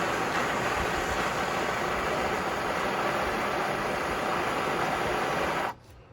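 A hand-held torch flame burns with a loud, steady, close-up roaring hiss that holds evenly for several seconds and then cuts off abruptly near the end.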